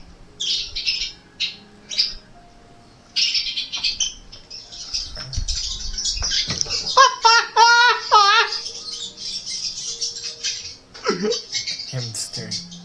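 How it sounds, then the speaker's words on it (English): Birds chirp and squawk continuously from a bird video channel, with bright, busy calls and trills, fairly loud and steady throughout. "Bird. Bird."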